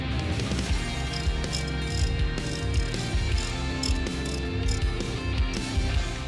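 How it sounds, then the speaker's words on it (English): A torque wrench ratchets in quick, steady clicks while tightening the screws of a spark plug guardrail, close up and alone with no talk. "And then use a torque wrench to tighten them with 12 Newton meters."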